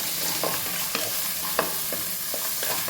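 Onions, green chilli, green peas, beans, carrot and tomato sauté in a pan for Maggi, a steady sizzle broken by regular scraping stirs of a spoon, close and fairly loud.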